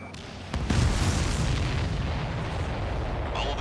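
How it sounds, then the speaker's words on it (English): A missile launches in an airplane video game: a sudden roaring whoosh kicks in after half a second and holds as a dense, loud rush to the end. "Missile away."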